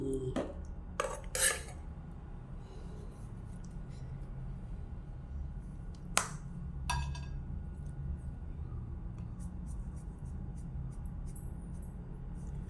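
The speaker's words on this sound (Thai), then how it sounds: "ก็ตำให้เข้ากันเลย" Eggplant and grilled mackerel being pounded in a mortar with pestle for a rustic Thai dip, giving scattered knocks and clinks of utensils against the bowl over a steady low background rumble, with no talking.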